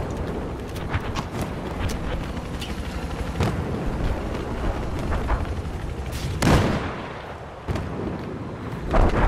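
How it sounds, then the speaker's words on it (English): Grenade blasts and gunfire in a Battlefield 4 battle, with sharp repeated reports and a couple of heavier booming bursts over a dense, continuous combat din. "Someone else is throwing grenades."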